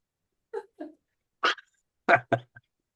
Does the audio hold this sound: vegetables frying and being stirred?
no